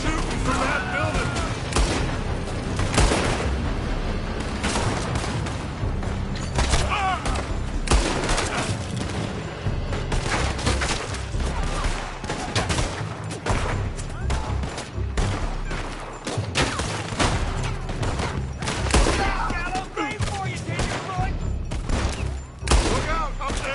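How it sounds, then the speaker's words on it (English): Sustained volleys of gunfire in Red Dead Redemption 2, with shooters firing from a building, rattle on loudly and steadily for the whole stretch, with dense booming shots overlapping game music and noise. "They're shooting from that building."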